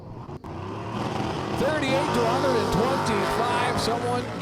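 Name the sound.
drag race: 68 Chevy Nova versus Dodge Daytona Super Stocker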